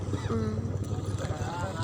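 A low, steady engine drone from a crowded passenger boat crossing to Nagadeepa, heard from on board with wind and water noise throughout and a few brief tonal squeaks.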